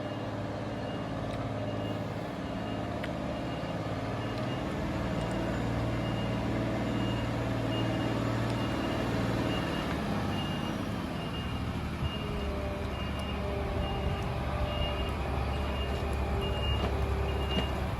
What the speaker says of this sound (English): Comes the Galant, backing down the road